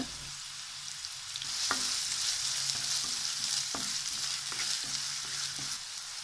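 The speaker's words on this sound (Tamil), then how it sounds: "எண்ணெய் சூடானதும் ஒரு மீடியம் சைஸ் ஆனியனை சேர்த்துக்கிறேன்." A medium-sized onion fries in hot oil in a pan, giving a continuous soft sizzle with several sharp stirring clicks against the pan. No voices.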